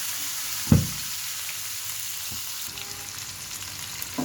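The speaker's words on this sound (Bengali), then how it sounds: "এখন আমি আবারও তেল দিয়ে দিয়েছি আর পেঁয়াজ দিয়ে দিচ্ছি" Steady oil sizzling from a pan of onions frying with cumin and nigella seeds, with a couple of sharp utensil knocks and quiet stirring.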